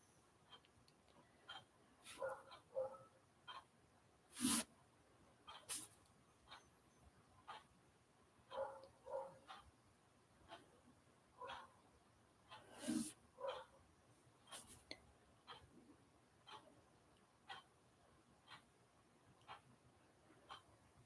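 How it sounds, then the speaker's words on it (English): Neighbours' dogs barking from a distance in scattered bursts of yips and barks, with a couple of sharper louder barks standing out against a quiet background. "Neighbors' dogs are barking."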